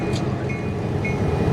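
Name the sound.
caboose train running at a railroad museum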